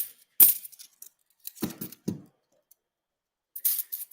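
Quarters from coin rolls clink and chink as they are handled, a few scattered metallic taps and small rattling bursts with quiet gaps between.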